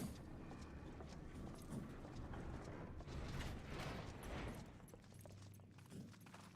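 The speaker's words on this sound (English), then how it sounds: "Another elevator." Elevator in the Final Fantasy XIV video game moving along, a low mechanical rumble with faint clanking and ratcheting that rises slightly midway, steady and fairly quiet.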